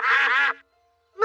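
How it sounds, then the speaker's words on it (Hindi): Cartoon ducks on a pond give two loud, nasal quacks, a long one and then a short one after a brief pause, alone and close. "देखो, वहाँ तालाब में बत्तख है।"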